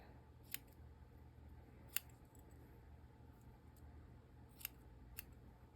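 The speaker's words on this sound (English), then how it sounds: "So we'll just cut a piece off." Scissors snip a piece off a length of off-white material: four crisp, isolated cuts spaced a second or more apart, faint and close over quiet room tone.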